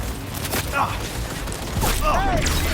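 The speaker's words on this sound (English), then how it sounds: "Target hit! Keep shooting!" Bursts of gunfire ring out in the video game Cyberpunk 2077 among dense mechanical effects and a rumbling backdrop, with game voices talking over the action.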